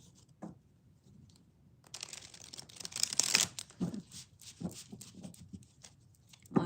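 Tarot cards being shuffled by hand: a few soft riffles and slides, with one longer burst of rustling shuffling in the middle, close and quiet.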